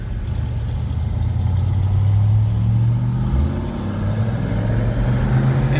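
A 1967 Corvette big block V8 rumbles steadily while driving, its deep low engine drone holding loud and close with a slight swell in revs partway through and no talk over it.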